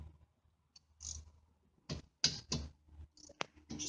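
A wrench loosens a 14 mm brake caliper bolt on a Toyota Corolla during a front brake pad and rotor change, giving several short metallic clicks and a couple of sharp ratchety bursts close by, with quiet gaps between them.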